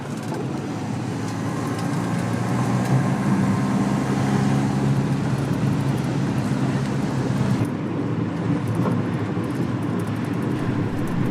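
A 60-year-old Volvo car engine warming up, a steady low rumble with a constant broadband roar that stays even throughout and drops slightly in the upper range partway through.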